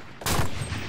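A sudden loud burst of gunfire in the World War II shooter game Enlisted, a sharp crack followed by a short rolling echo, alone without talk.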